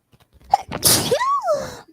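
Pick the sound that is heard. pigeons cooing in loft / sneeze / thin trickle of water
sneeze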